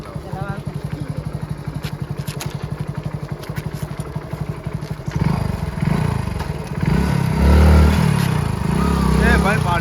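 A motorcycle engine runs close by with a steady rapid thumping beat, then rougher, louder clattering rumble as people talk over it.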